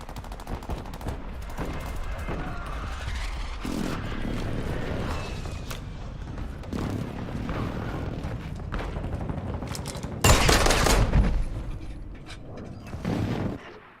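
Gunfire and a precision airstrike in a first-person military shooter: dense mechanical rattling and rapid shots throughout, then a loud blast of impacts near the end, no talk.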